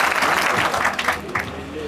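An audience at an industrial safety talk claps, a dense burst of applause that stays loud for a moment then thins out into scattered claps.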